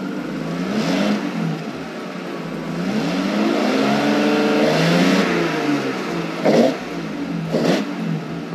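A BMW E36 325i fitted with an M3 intake revs up, its engine rising and falling in a couple of smooth throttle sweeps, followed by two short sharp blips of throttle, loud and close.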